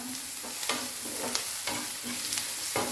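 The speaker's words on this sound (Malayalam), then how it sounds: "സവാള ഹൈ ഫ്ലെയിമിൽ തന്നെ വെച്ചൊന്ന് പഴക്കിയെടുക്കാം ഇതിലേക്ക് ഒരു അര ടീസ്പൂൺ ഉപ്പിടാം ഉപ്പിട്ടൊന്ന് വഴറ്റി കൊടുക്കാം" Sliced onion sautéing with half a teaspoon of salt over a high flame, a steady sizzle and fry broken by repeated scraping stirs of a spoon against the pan, with no voices.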